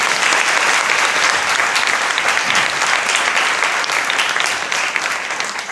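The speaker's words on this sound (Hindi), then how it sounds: "अब बात इनकी निकली है तो ताली बजा ही दीजिए।" A crowd at a Hindi-language Bible teaching gathering claps steadily and loudly for several seconds, a dense even roar of many hands that fades slightly at the end.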